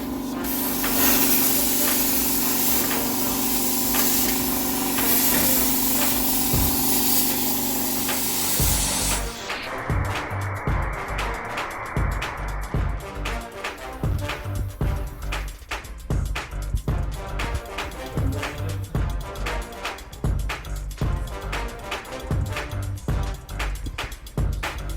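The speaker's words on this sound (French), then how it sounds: "on y va à la meule" An angle grinder cuts into the steel body of a Plymouth Fury project car, a loud harsh whine that shifts partway through into rough, chattering grinding bursts, close and sustained with no talk.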